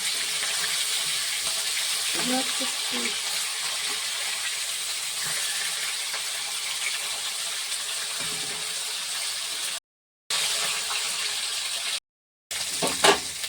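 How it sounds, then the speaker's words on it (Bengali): Rohu fish fries in hot oil, giving a steady, loud sizzling hiss with light spattering that continues throughout, broken by two brief silent gaps near the end. "এই মাছ খুব ফাটে, এই মাছ দেওয়ার সময় তেল একটু মাখিয়ে দিলে তার থেকে তেল তবে আর ফাটে না"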